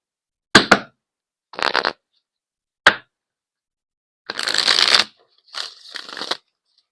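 Tarot cards being shuffled by hand, five separate riffling bursts of papery flutter, close and crisp, with short silent gaps between them.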